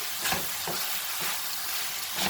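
Onions frying in a pan while being stirred, a loud, dense, steady sizzle with swishing scrapes of the spoon pulsing through it, close up and uninterrupted by voices.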